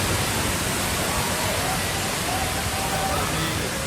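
Reggae Falls in Jamaica roars as a steady, dense rush of falling water heard from above the falls, loud and unbroken for the whole stretch with no clear talk over it.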